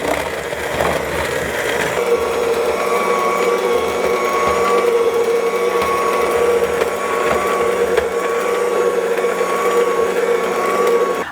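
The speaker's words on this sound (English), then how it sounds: "this mixer is on its last leg. I feel like it's struggling to mix today." An aging stand mixer strains as it mixes icing, giving a loud, continuous motor whine with a steady hum and a faint, uneven grinding underneath.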